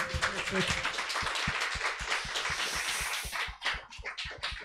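Audience applause at a YouTube evening show, a steady wash of claps with a few loud hits close by. Voices talk over it, and the clapping thins out toward the end.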